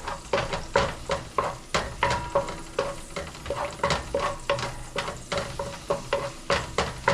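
Chicken pieces sauté and brown in a hot pan for Filipino tinola, a constant sizzle broken by regular rhythmic scraping stirs about once a second, close up with no talking.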